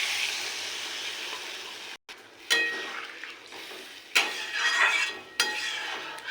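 Water added to sizzling spiced oil in a pan for a fish curry, a strong hiss that cuts out, then intermittent bursts of sizzle and stirring clatter.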